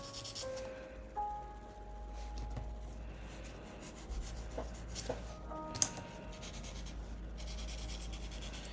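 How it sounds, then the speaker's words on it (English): The rough edge of a handmade stacking ring is rubbed by hand with 1000-grit sandpaper, giving quiet, close scratchy strokes with a few light knocks, with no voices. "I'm gonna take sort of that rough edge off real quick, just with some sandpaper."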